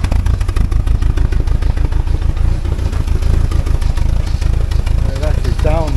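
The engine of a 1979 Porsche 924 running after fuel system work, a loud, close, rapid clattering idle with a steady pulsing beat throughout and a brief voice near the end.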